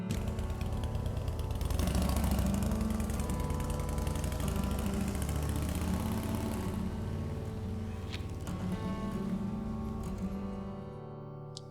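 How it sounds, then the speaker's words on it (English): A steady engine drones loudly throughout, rumbling at a constant pitch before easing off slightly near the end, with no voices. "With a ride to school on a motorcycle."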